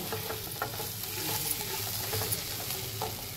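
Mixed vegetables for a Bhogi special bhaji stir-fried in an uncovered pan, a dense continuous sizzle with faint intermittent stirring scrapes, close and fairly quiet.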